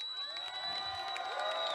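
At a hardcore wrestling match, a large crowd cheers and shouts, a sustained roar of whistles, whoops and high-pitched yells that stays loud and dense throughout.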